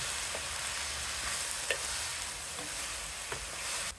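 Drumsticks, onions, curry leaves, green chillies and spices stir-fry in a pan for a drumstick milk curry, with a continuous close sizzle and occasional soft clicks from stirring.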